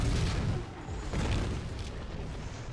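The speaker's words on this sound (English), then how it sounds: "Aim the Twilight Bombardment first." Twilight Bombardment spell explosions go off in the strategy game Battleforge as a dense, loud, rumbling series of booms, continuous throughout with no talking.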